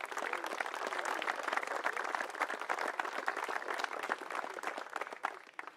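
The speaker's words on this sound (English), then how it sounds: "Let's give him a round of applause" A crowd applauds for the team captain at an under-16 and under-18 National Premier League presentation, a steady, fairly distant round of clapping that fades near the end.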